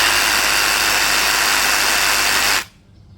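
A loud, steady motorised whir of a Dongcheng DCJF22 brushless cordless reciprocating saw running at high speed, then abruptly cutting off into near silence.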